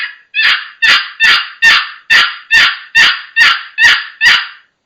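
A box call imitates a raspy hen turkey, low and slow: ten evenly spaced loud, hoarse yelps in a steady rhythm, close and alone.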